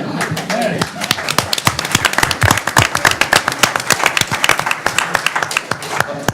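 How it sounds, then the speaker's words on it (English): An audience at a school board candidate forum breaks into loud, dense applause, a close rattle of many hands lasting about six seconds with voices mixed in. "I got applause."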